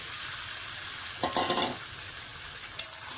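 Marinated chicken for a Bengali raw-mango chicken curry sizzles steadily in a pan, with a short burst of scraping stir strokes midway and a single sharp clink near the end; no one speaks.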